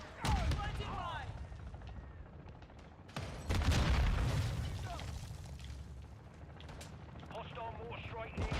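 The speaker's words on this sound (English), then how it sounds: "Hostile mortar strike near your position." Mortar strike explosions in Call of Duty Modern Warfare 2 burst loudly and heavily, with an especially big blast partway through, amid game gunfire and rumbling; a voice speaks over parts of the action.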